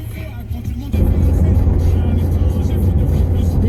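A car driving on a town road, its engine note and road rumble steady and close from inside the cabin, rising in loudness after the first second.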